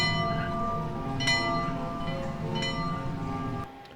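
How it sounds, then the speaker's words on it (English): Bells ringing within a layered soundscape mix, bright struck tones with lingering overtones over a dense low ambient bed, a few sharper strikes standing out before the level drops near the end. "So now I can actually affect the bells ringing and change the levels as I listen to it."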